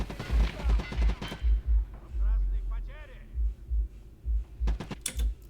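Gunfire in the shooter game Escape from Tarkov Arena comes as rapid, punchy shots, a dense burst early and more reports near the end, with someone talking over the action throughout.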